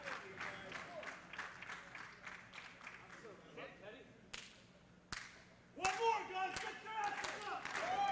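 A pro wrestling show crowd cheers and applauds under a commentator's voice, with sharp slaps and thuds punctuating the noise and the crowd swelling louder toward the end.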